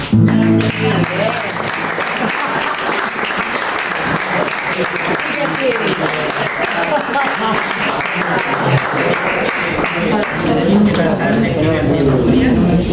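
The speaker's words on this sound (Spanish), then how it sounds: "¡Aplausos!" A crowd applauds loudly and steadily for the whole stretch at a poetry reading, with voices and cheers mixed into the clapping.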